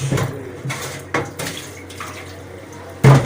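Running water and hollow metallic clunks as a pressure cooker is rinsed and handled under a tap, close by, with intermittent knocks and splashes.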